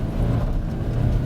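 A 2022 Kia K5 GT with 290 hp pulls away hard in normal mode, its engine note a steady, close mid-low drone with faint tire scrabble as it struggles briefly for traction, no voices over it.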